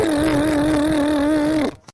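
A cartoon vehicle's engine hums steadily at a loud, close level with a sustained tonal drone, then cuts off abruptly near the end, leaving brief silence.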